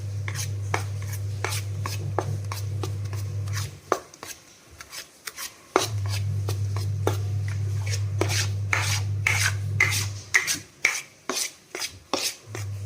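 Idada batter being mixed in a vessel: repeated scraping, rubbing strokes close by, first steady and later in quicker uneven bursts, over a constant low electrical hum that drops out briefly partway through.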